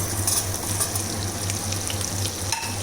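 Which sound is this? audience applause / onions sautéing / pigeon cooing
onions sautéing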